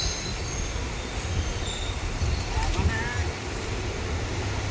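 A train pulls into Mandapam railway station with a steady low rumble of wheels on rails and faint high squeals, a broad continuous roar under a talking voice.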